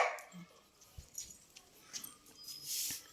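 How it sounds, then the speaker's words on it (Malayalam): A dog gives a few faint, brief barks and yips, spread irregularly across a quiet indoor moment with small background noises. "അവൾ കുരയ്ക്കുന്നുണ്ട്"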